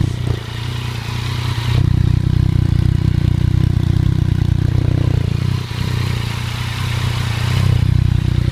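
A Yamaha FZ-09 motorcycle with an aftermarket M-4 exhaust idles steadily nearby, its even engine drone running loud and alone with a brief dip near the end.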